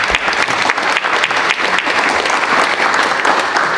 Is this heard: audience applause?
yes